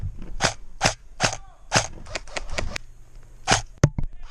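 Airsoft guns firing during a skirmish game, a rapid series of about a dozen sharp, close cracking shots in uneven bursts, with no talk over them.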